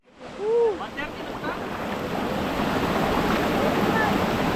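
Kaparkan Falls in Tineg, Abra, rushing as a dense, steady roar of falling water that builds and holds loud throughout, with a brief voice-like whistle near the start.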